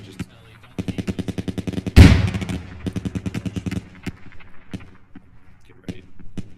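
Automatic gunfire in the military shooter Squad, rapid bursts of rounds up close, one heavy blast in the middle, then more scattered shots trailing off.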